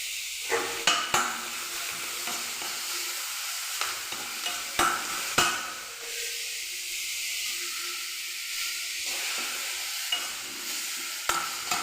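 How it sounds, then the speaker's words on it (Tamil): Onions frying in two spoons of oil for a chutney, a steady close sizzle with brief louder bursts and spatula scrapes as they are stirred in the pan. "2 ஸ்பூன் ஆயில் ஊற்றியாச்சு. வெங்காயம் போட்டாச்சு வதக்கறக்கு."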